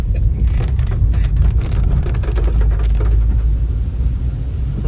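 Heavy rain at Tamhane Pachal ghat in the Konkan, a loud, dense, continuous patter with a deep low rumble underneath, steady throughout and with no talking.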